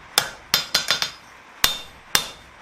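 A blacksmith's hammer strikes hot metal on an anvil while forging a flower coat hook, about seven sharp, ringing blows in an uneven rhythm, close and clear with no talk.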